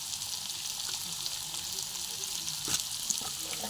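Onion, tomato and capsicum frying in a pan for a sattu jhala, a steady hiss of sizzling with a few soft scrapes of stirring near the end, close and continuous.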